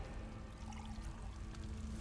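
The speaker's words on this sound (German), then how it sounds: "Und jetzt salbt den Altar mit dem geweihten Wasser." Consecrated water trickles onto an altar in Elder Scrolls Online, a quiet, steady pouring stream under a faint background hum.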